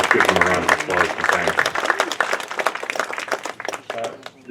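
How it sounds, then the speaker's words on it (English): Outdoor senior awards ceremony audience clapping, with scattered, fairly close claps mixed with talking voices throughout. "so let's give them a round of applause"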